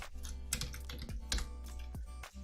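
Rapid, uneven keystrokes clatter on a computer keyboard during coding, close and clear, with small clusters of taps and brief gaps over a low steady hum.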